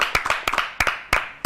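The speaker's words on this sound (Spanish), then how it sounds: "Un aplauso totalmente." A few people clap in quick, uneven bursts at a museum premiere event, close by and sparse rather than a full crowd.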